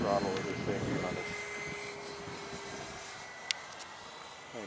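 A Vampire EDF radio-controlled model jet whooshes past at about half throttle outdoors, its ducted-fan whine loud at first and then fading into the distance, with a voice talking over the start.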